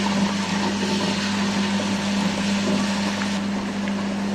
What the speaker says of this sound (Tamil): அரிசி நல்லா அரைஞ்சிடுது.